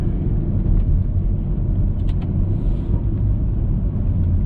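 Deep, continuous engine rumble from a 480 hp BMW F30 335i, with low burbling exhaust throughout and a few faint higher clicks near the middle.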